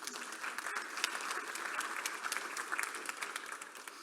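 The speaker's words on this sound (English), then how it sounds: "You give them an applause." Audience applause for program partners at a startup demo day: a steady, dense wash of many hands clapping, sustained at even loudness throughout.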